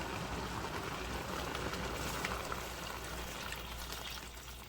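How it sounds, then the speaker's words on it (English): Water pours steadily into a pot of Southern-style collard greens, a continuous soft splashing trickle lasting several seconds, fairly quiet and with no talking. "we'll add a little more water"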